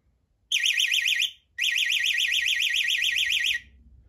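A Texecom Odyssey 3E external alarm bell box sounds its siren on test: a loud, close, warbling electronic wail that runs for about a second, cuts out briefly, then resumes for two more seconds before stopping.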